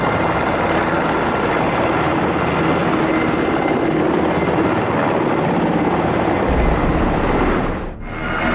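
Army helicopters flying over a Houston neighborhood, a loud continuous rotor drone close overhead that holds steady before briefly dipping near the end, with no talk.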